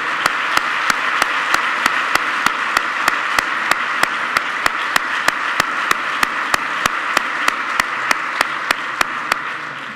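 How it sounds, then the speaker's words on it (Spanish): An audience at a ceremony marking the 30th anniversary of the Erasmus programme claps in sustained, even applause that fills the room, with distinct rhythmic claps near the microphone for the full stretch. "Un aplauso para ella."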